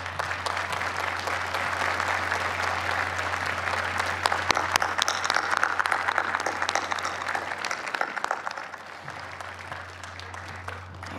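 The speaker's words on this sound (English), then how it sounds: "Please, a round of applause." An audience at the Boston University undergraduate commencement ceremony claps in sustained, dense applause that swells in the middle and then thins out toward the end, heard over a steady low hum.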